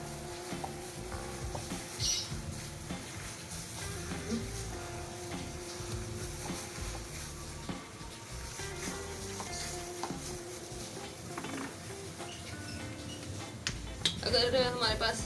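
A spoon mixes ingredients for a homemade chicken burger patty, steady soft stirring and scraping over a continuous bed of background music, with a louder clatter near the end.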